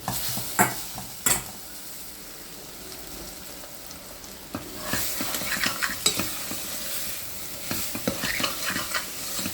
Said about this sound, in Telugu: ఇంకా ఫ్రై అయిపోతున్నది ఆనియన్స్ ఆయిల్లో